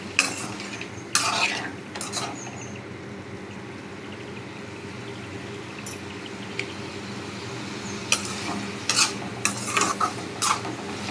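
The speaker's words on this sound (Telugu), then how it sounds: "ఈ కొబ్బరి ముక్కలు, ఈ పచ్చిమిరపకాయలు వేపుకుందాం." Coconut pieces and green chillies fry in a pan with a steady, close sizzle, broken by repeated bright scrapes and clinks of a spoon stirring against the metal, with no voices.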